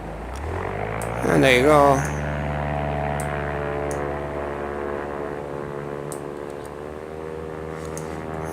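An aircraft takes off from Gibraltar Airport in the X-Plane 11 flight simulator, its steady engine drone holding throughout while its pitch climbs briefly, with someone speaking a few words over it.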